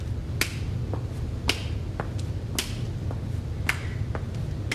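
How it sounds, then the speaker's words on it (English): Sharp, sparse hand claps keep a slow steady beat during a guided exercise on a variety show, each crisp clap standing alone over a low background hum. "Let's do it this way, clap and clap"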